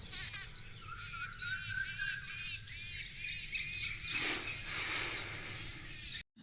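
A bird calls repeatedly with high, rapid chirps and trills against a steady outdoor hum of insects in a morning farm field, fairly distant and moderately faint.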